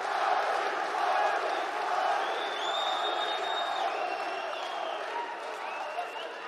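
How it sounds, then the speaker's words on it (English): A large arena crowd at an ACB mixed martial arts fight roars and cheers continuously, with scattered whoops and whistles rising above the steady din. "Crowd rising once again to urge Arbi on."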